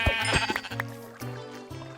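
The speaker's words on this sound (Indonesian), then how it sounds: "Halo domba. Domba jangan ke bawah domba" Sheep in the Minecraft video game bleat in short repeated calls, four in a row at an even pace, clear and close with no talking over them.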